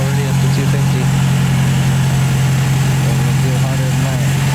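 A 1951 TD car engine idles close by, a loud, steady, even rumble with a low throbbing pulse that holds without change throughout.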